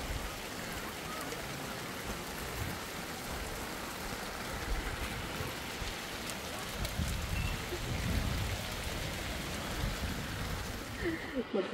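Steady rain falls on the first day of May at a secluded outdoor spot in Norzagaray, a dense continuous hiss of drops on surfaces with a faint low rumble beneath, no voices heard.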